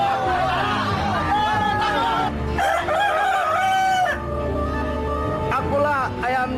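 A rooster crows repeatedly at a cockfight amid a lively, noisy crowd, with people shouting and talking loudly around it.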